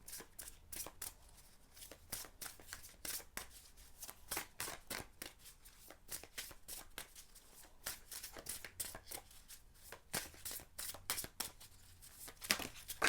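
Oracle cards are shuffled in quick, crisp riffling flicks that repeat steadily and close by at a soft level, with no voices.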